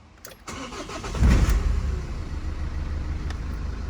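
A Vauxhall Movano van with a 2.3 diesel engine cranks briefly and catches, then settles into a steady, close, rumbling idle that carries on to the end.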